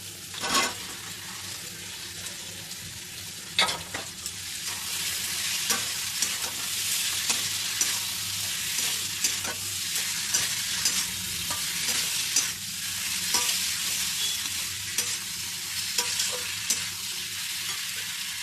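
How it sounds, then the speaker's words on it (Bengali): Fried potato and cauliflower are stir-fried with spices in a pan, giving a close, steady sizzle with repeated sharp scraping and clattering strokes of the spatula throughout and no one talking. "মশলার সঙ্গে আলু আর ফুলকপিটা ভালো করে কষিয়ে নেব।"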